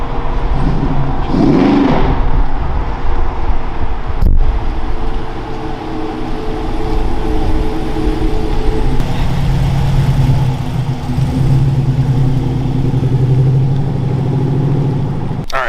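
A supercharged Trans Am sleeper's engine and exhaust idle steadily nearby, a low continuous rumble with a brief louder flutter early on and a slightly deeper, steadier drone in the later half.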